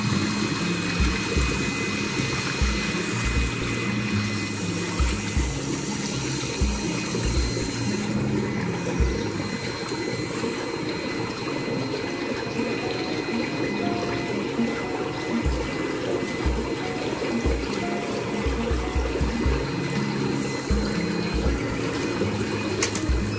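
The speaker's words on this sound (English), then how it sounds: "So the bubbles are kind of noisy, but they're very relaxing." An Intex PureSpa inflatable hot tub runs its bubble jets, a continuous churning, bubbling water roar with a steady pump hum underneath, even and fairly loud throughout.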